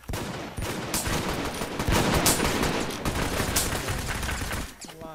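Rapid gunfire from a gun in the shooter game Brain Out, a dense continuous volley of shots that runs loud for about five seconds before cutting off near the end.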